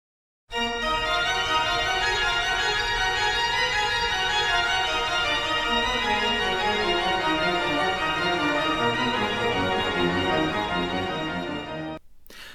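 Continuous loud pipe organ music with a full sustained chord texture and a moving, detached lower pedal line, played alone for about twelve seconds before stopping abruptly.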